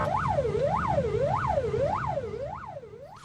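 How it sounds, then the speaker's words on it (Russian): An ambulance siren wails in a rapid rising-and-falling yelp, about five cycles over three seconds, loud and steady over traffic noise in Bashkiria. "обратите внимание, как водители реагируют на машину скорой помощи с включенным спецсигналом"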